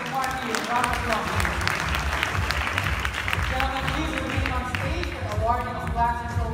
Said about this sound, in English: Dr. Paul Schulte and Mr. Parkey, round of applause.